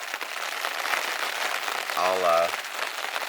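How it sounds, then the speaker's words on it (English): Steady rain pattering on a surface at a spring campsite in Algonquin, close and continuous, with a brief spoken word partway through. "But if it keeps raining like this"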